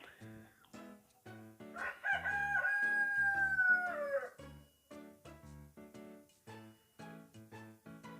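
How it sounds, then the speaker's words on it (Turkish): A rooster crows loudly once, a long rising-and-falling cock-a-doodle-doo, with harmonic background music playing throughout, in the game My Hero Academia: The Strongest Hero. "Benim horoz yine ötüyor"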